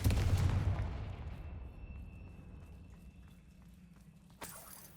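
A blasting-spell explosion in a Hogwarts Legacy fantasy game opens with a loud booming burst that fades slowly, followed near the end by a second sharper impact.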